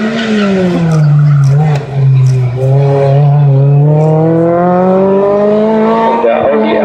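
Audi A3 race car at the Wolsfeld hill climb, its engine note rising and falling loud and near as it revs through gears, with a strained, uneven shift.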